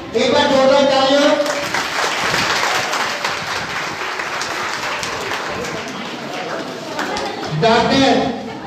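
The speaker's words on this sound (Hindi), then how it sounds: "एक बार जोरदार तालियां" A crowd at a welcoming ceremony for a doctors' event applauds steadily for several seconds, the clapping continuous and fairly loud, with a voice speaking over the start and end.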